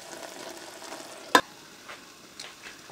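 Pepper, tomatoes and onions cooking together in a pot give a soft, steady sizzle and bubbling, with one sharp clack near the middle and a few fainter knocks later.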